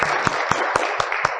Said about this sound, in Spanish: ¿Cuántos le dan un aplauso al Señor por eso?